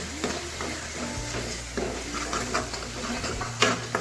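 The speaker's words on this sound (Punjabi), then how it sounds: "ਹੁਣ ਆਪਾਂ ਇਹਦੇ ਵਿੱਚ ਪਾਉਣ ਲੱਗੇ ਆ ਪਿਊਰੀ ਟਮਾਟਰ ਦੀ ਬਣਾਈ ਹੋਈ ਸੀ ਜਿਹੜੀ" Tomato puree sizzles in a hot pan with spices for aloo matar sabzi while a spoon stirs and scrapes it, giving steady frying hiss broken by occasional clinks and scrapes, close and fairly loud with no talking.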